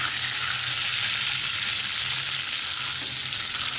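A pan of sauce with soy sauce and vinegar sizzles steadily while being stirred, a constant close frying hiss with no voices.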